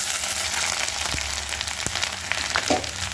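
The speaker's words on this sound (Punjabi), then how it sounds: "ਥੋੜਾ ਫਰਾਈ ਕਰ ਲੈਣੇ" Cumin and ginger fry in hot oil in a pan for a radish curry, a continuous dense sizzle with a few soft knocks of stirring underneath.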